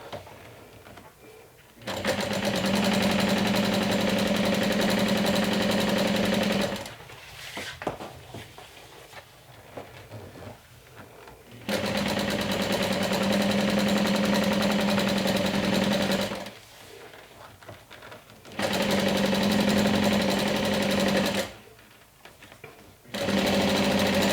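A sewing machine stitches a bag strap in three long steady runs of loud, even whirring, with short quiet pauses between bursts.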